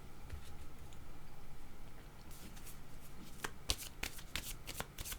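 Oracle cards being shuffled for a card reading, a soft continuous riffling and sliding with sharper card snaps and flicks toward the end, close up and fairly quiet.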